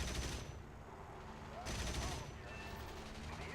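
Aircraft cannon fire in the War Thunder flight combat game comes as dense, continuous rattling bursts that surge louder around midway, loud and unbroken with no talking.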